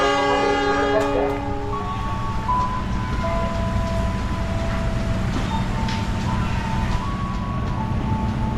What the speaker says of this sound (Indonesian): Jalur 1 lokomotif persiapan kembali diberangkatkan